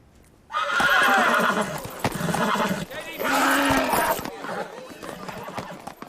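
A horse neighs loudly and close, giving several whinnies over clip-clopping hooves, and then the sound fades into quieter stable noise.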